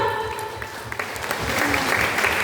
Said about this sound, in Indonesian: Mari berikan tepuk tangan untuk Tuhan kita.